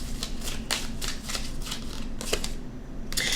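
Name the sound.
shuffling tarot cards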